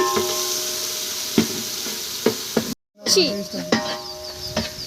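Onion paste and cumin sizzling in a hot pan for Telangana-style fish biryani, a steady frying hiss with scattered stirring scrapes and clinks, briefly cut off mid-way before resuming.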